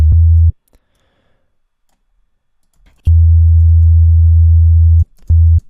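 A Reese bass synth patch built from two sine waves sounds in loud, low, smooth bursts: one short note, a long pause, then a long sustained note and a brief final hit.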